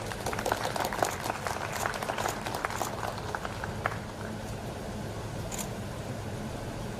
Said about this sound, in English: Let's have a big applause for her.